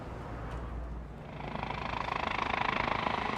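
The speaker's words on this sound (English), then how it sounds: "That was the helicopter just flying over." A low mechanical rumble builds steadily, with rapid rhythmic chopping pulses growing louder toward the end, like a helicopter passing overhead.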